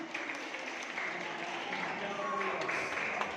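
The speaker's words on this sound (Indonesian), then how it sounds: "Mari kita tepuk tangan sekali lagi." Audience clapping at a stage event, fairly quiet and continuous, with some voices and chatter mixed in beneath it.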